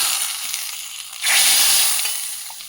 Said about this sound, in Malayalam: ഇതിങ്ങനെ തിളച്ചോണ്ടേയിരിക്കും